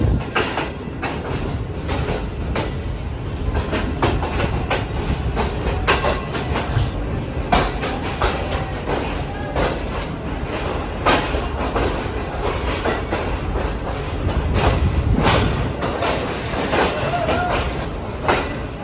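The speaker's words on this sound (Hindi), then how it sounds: "ये 14 डाउन अवाम एक्सप्रेस है आई गेस।" The 14 Down Awam Express, a Pakistani passenger train hauled by a relief locomotive after its own engine failed, rumbles past loud and close with continuous clickety-clack of wheels over rail joints and a broad roar of carriages.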